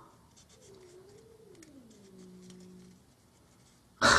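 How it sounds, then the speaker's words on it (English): A cat wanting to come in lets out a long, wavering, moaning yowl, fairly quiet and muffled, followed after a pause by a sudden loud knock or bump. "The cat is making the worst noises ever."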